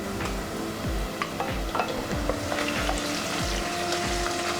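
Ginger garlic paste frying lightly in a pan for a prawn masala biryani, a steady close sizzle with repeated scraping stirs of a spoon against the pan, no voices.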